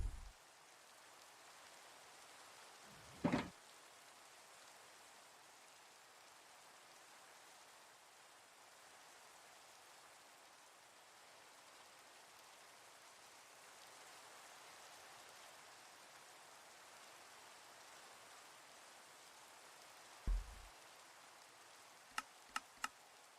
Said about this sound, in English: Hey, the rain stopped on its own.